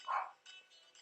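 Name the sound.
dog barking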